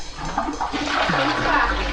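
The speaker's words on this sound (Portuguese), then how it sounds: "A descarga é aqui, ó." A toilet flushing in a house bathroom whose sewage drains out to an open ditch: a continuous rush of water that swells and holds steady for about two seconds, fairly close.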